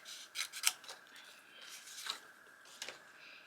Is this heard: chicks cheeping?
no